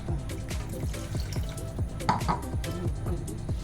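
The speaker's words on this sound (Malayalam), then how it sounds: "ഇതിലിപ്പോൾ ഒരു 1/2 ഗ്ലാസ് വെള്ളം കൂടെ ഒഴിക്കട്ടെ" Water splashing and dripping into a pot of curry, with a steady low rhythmic clatter underneath and no talking.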